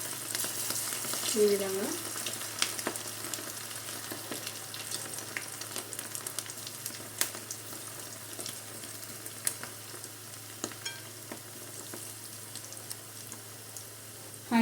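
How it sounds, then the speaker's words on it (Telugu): Masala-coated boiled potatoes for Aloo 65 fry in oil on a low flame with a steady soft sizzle and scattered pops across the whole stretch, and a voice speaks briefly over it. "ఇప్పుడు మన మసాలా అవి పట్టించుకున్న పొటాటో ఉంది కదా, లో ఫ్లేమ్లో పెట్టేసుకోవాలి"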